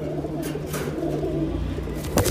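Pigeons of a high-flying Bengali breed coo steadily in a loft, a low rolling warble repeating throughout at close range with no talk over it.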